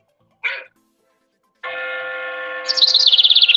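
Short bird chirps, one brief call followed after a pause by a longer, rising, fluttering trill, close and fairly loud with no other sounds around it.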